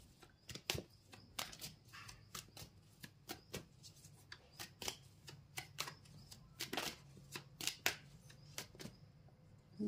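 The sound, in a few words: tarot cards being shuffled and drawn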